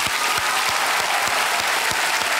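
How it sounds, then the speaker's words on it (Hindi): Studio audience on a televised Hindi quiz show applauding loudly, a dense continuous roar of many hands clapping that holds steady throughout. "मैं चाहता हूं कि आप सब लोग जोरदार तालियां बजाएं।"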